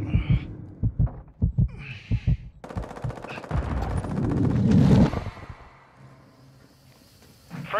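Gunfire in Call of Duty MWII from an MCX Rattler (M13C): a few sharp separate shots, then a dense burst of rapid automatic fire for a couple of seconds. A low rumble follows and fades.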